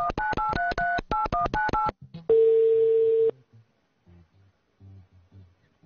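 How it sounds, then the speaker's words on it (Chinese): A telephone number is dialed on a keypad in a TV studio game show, a quick run of about a dozen DTMF tones followed by a steady ringing or dial tone, then faint rustling. "电话打过去。"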